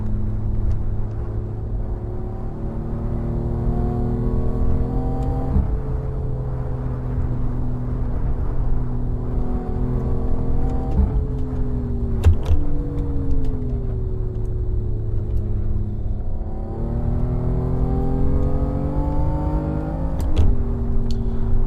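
A BMW M3 road car engine in the Assetto Corsa racing sim at Donington holds a steady, loud drone throughout, its pitch rising and falling through several gear changes and brief rev shifts.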